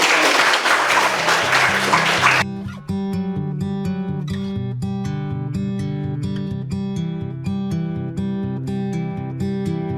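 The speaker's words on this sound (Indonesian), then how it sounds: "Ya, tepuk tangan juga oleh SMK." Vocational high school students applaud at a museum-comes-to-school event, a burst of loud group clapping that stops abruptly after about two seconds, followed by a repeating music track.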